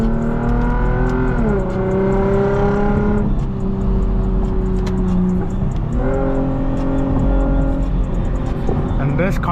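A straight-piped Lexus IS250 with muffler and resonator deleted drones loudly and continuously from the cabin while driving, its raspy exhaust note rising through the gears, dipping at shifts, then climbing again.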